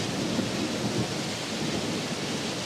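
A rainstorm sound effect in a thrash metal song: steady, dense rain with low rumbling thunder, filling the whole stretch at an even level with no music or voices.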